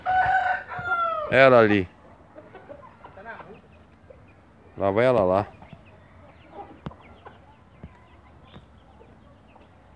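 Chickens at a stable: a rooster crows loudly twice, close by, with soft clucking and scattered bird sounds between the crows while a person talks quietly.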